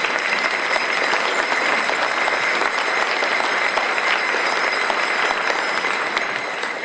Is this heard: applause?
yes